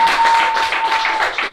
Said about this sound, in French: Un peu d'applaudissements s'il vous plaît